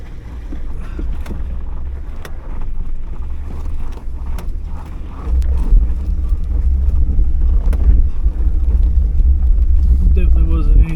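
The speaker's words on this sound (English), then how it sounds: "anytime that you get to drive through water is always fun" A vehicle on the Virginia Adventure Trail splashes through a shallow, low-water creek crossing, a steady low rumble of engine and water sloshing with wind buffeting the microphone and someone talking throughout.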